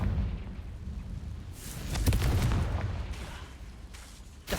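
Rumbling blasts and crackling bursts from the Confringo blast curse in Hogwarts Legacy, dense and continuous, swelling loudest in the middle, with no talk.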